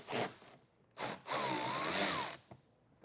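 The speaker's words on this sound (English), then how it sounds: "Inside our wheel well here, we have some T15 torque screws to remove." A power tool whirs in short bursts, then a longer run, backing out T15 Torx screws inside the wheel well of a 2019 Audi Q3, close and clear with brief pauses between.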